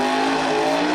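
Monster truck engine roaring at a Charlotte, North Carolina monster truck cookout event, a sustained loud, steady high-revving drone with a strong tonal whine, close and unbroken for a second.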